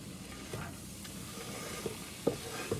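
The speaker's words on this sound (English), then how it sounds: "While this is sauteing" Onions sauteing in a pan for Persian-style macaroni, a soft, steady sizzle with a few faint stirring knocks, fairly quiet and without voices.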